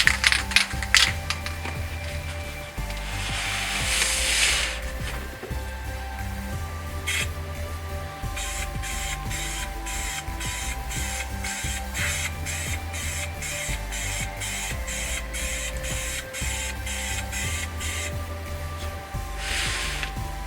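Aerosol spray paint hisses onto a valve cover in wrinkle black for a second coat, with long continuous bursts and then a run of short rapid pulses, close and fairly loud with no talking.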